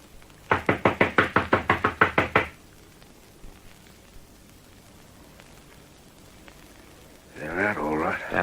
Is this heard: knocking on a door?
yes